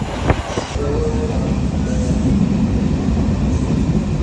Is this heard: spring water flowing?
no